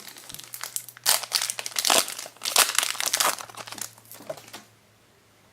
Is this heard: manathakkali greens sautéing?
no